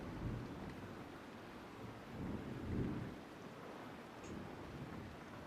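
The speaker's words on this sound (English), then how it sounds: "Really feels like it's raining outside." Steady rain hisses continuously while low thunder rolls softly in the background, swelling briefly in the middle; the sound is faint and constant throughout.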